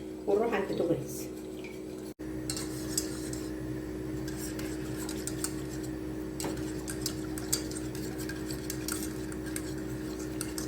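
A spoon stirs a cream mixture in a pot on a gas stove, soft repeated scraping and light clinks under a low steady hum, with a few sharper metallic knocks near the start.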